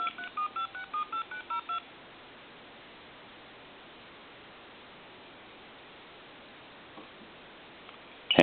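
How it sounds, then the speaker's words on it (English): A repaired Hot Dog Mustard Relish novelty telephone, model HD-8003, redials with a quick run of eight short DTMF tones, followed by a long stretch of faint line hiss and a brief click near the end. "I'm just going to dial 2, 6, 2. Redial."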